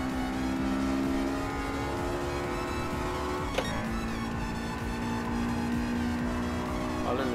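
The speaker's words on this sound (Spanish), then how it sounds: "Que fijaos cómo pilla revoluciones, ¿eh? Es como una moto, lo puedes llevar hasta 9000." A Honda S2000 in the racing video game Gran Turismo Sport revs its high-revving engine near the 9000 rpm limit, a loud steady tonal whine that holds throughout with a brief shift in pitch midway.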